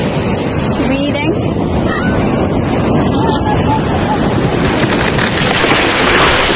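Ocean surf rolls onto the beach at Freeport, New York, a loud, constant wash of breaking waves mixed with heavy wind buffeting on the microphone, with faint voices in the background.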